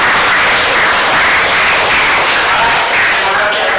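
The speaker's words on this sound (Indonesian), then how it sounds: "Tepuk tangan dulu." A class claps together at the end of a school lesson, a dense, loud, steady burst of applause from many hands.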